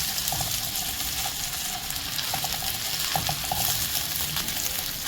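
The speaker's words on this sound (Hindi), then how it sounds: "1 मिनट तक हम जिंजर गार्लिक को भी सौटे करेंगे इसमें" Ginger garlic paste sautés with onions in a pan over medium heat, a steady close sizzle with repeated scraping and stirring clinks, and no talking.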